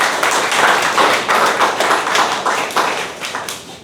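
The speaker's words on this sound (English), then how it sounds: "Can we have a big round of applause for all the role players?" A small meeting audience at a Toastmasters club claps steadily for a few seconds, a close, lively patter of applause that tapers off slightly at the end.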